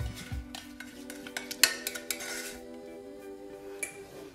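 Cake batter for a chocolate walnut sponge is stirred together with melted butter, giving soft scraping and irregular clinks of a utensil against a bowl, close and fairly quiet, with one sharper knock midway.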